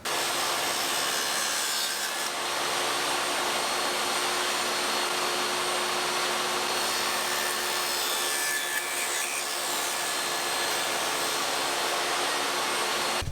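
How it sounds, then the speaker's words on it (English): A table saw fitted with a 3/4 inch dado stack cuts tenons in wood, giving a loud, steady, broadband whirring roar that runs unbroken throughout with no talking. "I've got the 3/4 inch dado stack in place, and I've got it all set up to make my tenons"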